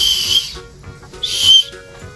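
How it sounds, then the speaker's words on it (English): Toy explorer safety whistle, part of a kids' compass-and-thermometer kit, blown twice in short shrill bursts, close and loud with a pause between blasts. "This little safety explorer whistle totally works."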